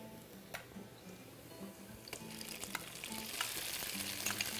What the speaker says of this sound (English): I'm going to add my sofrito.